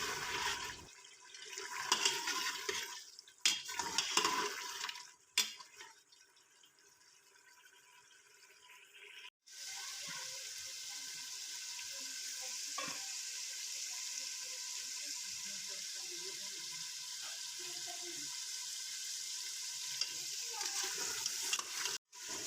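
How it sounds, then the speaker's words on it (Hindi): Mutton paya masala fries and is stirred in a pan, a steady sizzle that starts after a few seconds of clattering and rustling and then holds evenly for about fifteen seconds. "अब हम इसको इतना भूनेंगे जब तक ये ऑयल ना छोड़ दे।"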